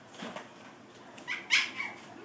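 A small Cavachon dog gives a few short, high yips in quick succession, fairly faint against a quiet room background.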